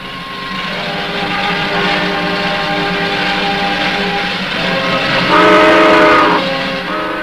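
A train departs with a loud continuous rumble of rolling wagons and a sustained whistle blast rising near the end, heard close and alone with no talk.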